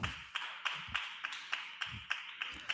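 Applause from a church congregation, a run of rhythmic, evenly spaced claps at close range, picked up quietly and without voices.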